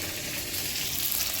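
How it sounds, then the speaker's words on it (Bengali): Fish fries in a pan with a dense, steady sizzle of hot oil, close and unbroken for a brief moment. "মাছটা ভালো ভাজা ভাজা করে নিই"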